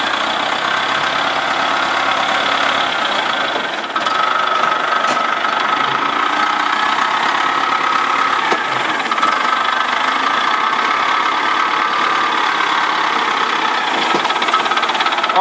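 A forklift engine idles steadily close by for the whole stretch, a loud continuous mechanical rumble with a faint knocking texture and slight vibration, no speech over it.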